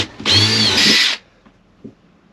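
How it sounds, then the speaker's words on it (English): A power drill bores a hole inside a van during an interior conversion, one close, loud, high whine lasting about a second before winding down, followed by faint knocks. "So hopefully I can just drill straight down, get a nice hole to start with"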